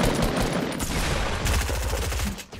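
Rapid bursts of automatic gunfire in the Fortnite video game, dense and loud, rattling continuously for a couple of seconds before tapering off at the end.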